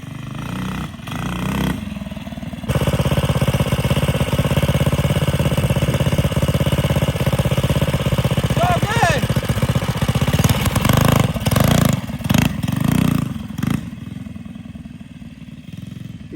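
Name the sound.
Baja Warrior mini bike engine revving during wheelies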